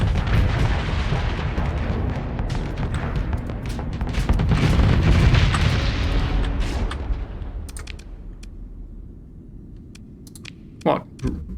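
Spaceships explode during a Starsector space battle in a rumbling, dense barrage of booms and crackling blasts that swells midway, then thins out to a few sharp isolated hits near the end.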